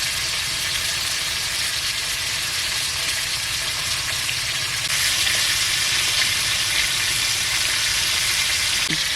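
Rohu fish pieces fry loudly in hot oil in a pan, a dense continuous sizzle that grows a little brighter midway as the pieces are turned; no talking.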